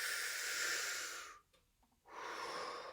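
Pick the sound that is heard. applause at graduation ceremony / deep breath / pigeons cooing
deep breath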